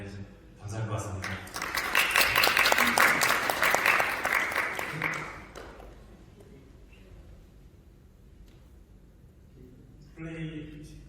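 A conference audience at the Park Hyatt Hotel in Dubai applauds the simultaneous interpreters, a dense burst of clapping lasting several seconds before fading out, with quiet room noise and a brief voice afterward.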